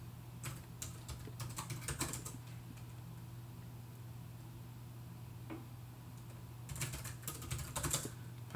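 Keys on a computer keyboard are tapped in short, faint bursts at the start and again near the end, with quiet pauses between them over a steady low electrical hum.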